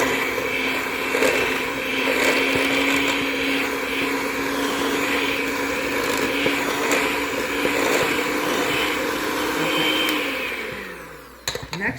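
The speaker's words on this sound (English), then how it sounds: "I'm going to start creaming the sugar and butter together, and we're going to go add the cocoa" Electric mixer creaming sugar and butter for chocolate frosting, a steady loud motor whir with slight strain, running alone for about eleven seconds before winding down and stopping.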